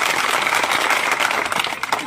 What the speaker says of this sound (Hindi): एक बार इनके लिए भी जोरदार तालियां हो जाए